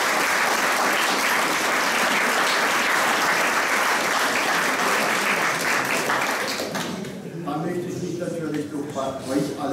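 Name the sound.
audience applause at a concert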